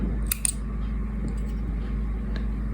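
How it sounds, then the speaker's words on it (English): Scissors snipping the yarn ends of a crochet bracelet: a couple of quick, crisp snips close by over a low steady hum, then a fainter click later on. "you can decide to cut it short"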